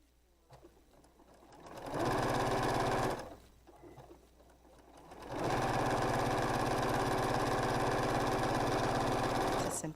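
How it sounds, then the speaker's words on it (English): A sewing machine stitches half-square triangle quilt blocks in two runs. A short burst is followed by a pause, then a longer steady whirring run with a rapid needle rhythm. The sound is close and fairly quiet. "And I sew off the edges so I don't have to be precise with my pivots."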